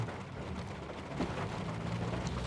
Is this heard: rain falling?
yes